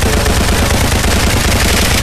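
Rapid, loud Uzi fire in a VR shooter game: a continuous close-up burst of automatic shots in a fast, even rhythm that runs for about two seconds before cutting off abruptly.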